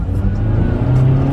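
A car with a worn clutch and damaged oil pan revs hard as it accelerates, a loud close engine roar with a rising note, heard from inside the vehicle.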